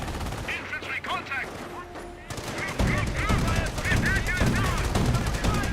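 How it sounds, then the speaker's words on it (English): Autocannon fire from Company of Heroes, with bursts of repeated heavy shots throughout, loudest in the second half, mixed with honking game sounds and a voice talking over it. "Get some more auto cannon fire there."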